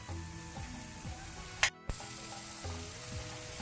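Sardines laid into a pan of spiced masala oil, a soft steady sizzle with faint crackles and a couple of brief clatters from the pan partway through, fairly quiet and close.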